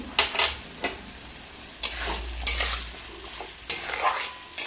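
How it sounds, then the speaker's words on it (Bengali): Vegetables, including potato, pumpkin and chickpeas, being stirred in a pan after salt is added, with a spoon scraping in bursts over a soft sizzle and occasional utensil clinks, close and moderately loud. "নুন দিয়েও কিছুক্ষণ নাড়াচাড়া করব।"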